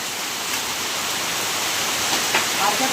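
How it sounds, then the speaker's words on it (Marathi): Heavy rain pours down steadily outdoors as a dense, even hiss that stays loud and continuous throughout, with no clear voices over it. "जोरात तो पण पडतोय पाऊस"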